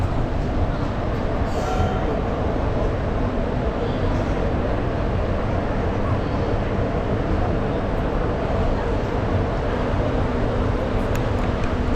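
A train pulls into Digha station with a continuous low rumble and steady rolling noise of wheels and carriages, loud and close throughout, with voices faintly underneath.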